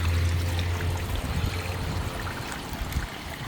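Dark plant-dye liquid, soaked with plant matter for about two days, pours out in a steady, close stream that gurgles for a few seconds with no talk.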